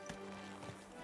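Horse hooves clip-clop in a medieval Bohemia video game, a short quick run of soft, even hoof strikes under a steady low ambient hum.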